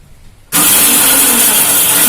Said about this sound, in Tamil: மிக்சியில் 1-2 நம்ம ஜீரகத்தையும் மிளகையும் அடிச்சிட்டோம்.